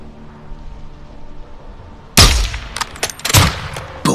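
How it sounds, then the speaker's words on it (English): A sniper rifle shot in the video game Modern Warfare II cracks out suddenly after a quiet stretch, loud and close, followed by a few sharp report echoes and clicks. "Take out two in one shot"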